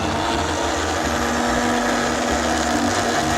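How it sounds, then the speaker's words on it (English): A kitchen blender purees artichoke soup with a little broth into a thin paste. The motor gives a loud, steady whir that runs without a break. "I'm going to blend this into a thin paste"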